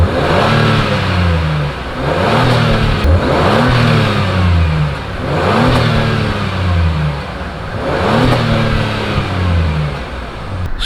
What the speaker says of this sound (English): Let's hear that exhaust note.